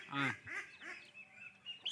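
Young ducks call out with shrill, overlapping peeps and squawks, loud and close, with a little background chatter.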